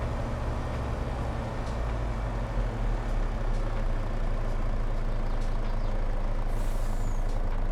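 A truck in Farming Simulator 22 rumbles steadily with a low engine drone, broken by brief air-brake hisses near the end, with no talk.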